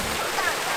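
Waterfall water pours in a steady broadband rush, loud and continuous for under a second, with faint voices in the background.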